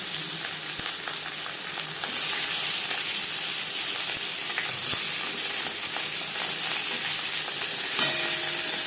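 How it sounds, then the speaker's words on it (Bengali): Marinated katla fish fries in hot oil in a home kitchen, a steady, bright sizzle and crackle holding close and loud throughout, with occasional small pops and clicks. "গরম করে নেওয়ার পর দিয়ে দিলাম ম্যারিনেট করে রাখা মাছ"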